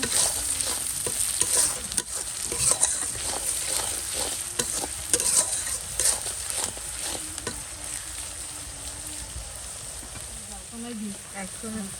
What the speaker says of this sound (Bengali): প্রথমে পেঁয়াজ মরিচটা ভাজা নিতেছি একটু লবণ দিয়ে দিলাম